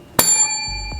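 A single bright bicycle-bell ding rings out clearly and sustains as it slowly decays, with a low thump near the end.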